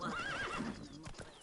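A warhorse in The Witcher 3 gives a short, close whinny that rises and wavers, followed by a few soft hoof clops.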